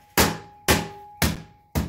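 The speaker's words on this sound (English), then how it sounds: "I'm going to keep hammering it until some of those wrinkles go away" Four sharp, evenly spaced hammer blows strike a wrinkled sheet-metal body panel for a 1913 Duesenberg cyclekart, worked at its edge over a sandbag. Each loud, close hit leaves a brief metallic ring.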